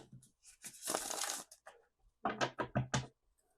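Several bursts of dry, rustling tarot card noise up close, a long riffle followed by quicker shuffling strokes with brief pauses.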